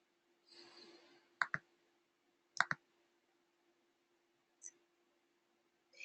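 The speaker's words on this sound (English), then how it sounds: "I'm going to click to register." A computer mouse clicks several times to register for an event, sharp isolated clicks, one double click among them, spaced across a quiet room, preceded by a soft breathy rustle.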